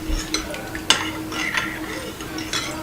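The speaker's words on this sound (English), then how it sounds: "just keep mixing" Homemade hand sanitizer of white rum and aloe vera gel being stirred in a container, with a steady scraping, swishing mix and a few sharper clinks close up.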